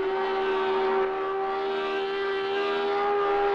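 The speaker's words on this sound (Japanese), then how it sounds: "このアウディのね、独特の V10 サウンドがちゃんとしっかりと再現できてるかなと思います。" A high-revving Audi V10 race car engine in the driving game Project CARS 2 holds a loud, steady, sustained howl at high RPM, with no voices over it.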